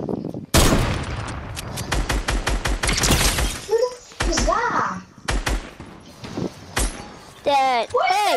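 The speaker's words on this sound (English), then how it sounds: "Shotgun." Shotgun blasts in the Fortnite video game: a rapid run of loud, sharp booming shots, several close together, with more scattered shots after, while players talk and shout over the gunfire.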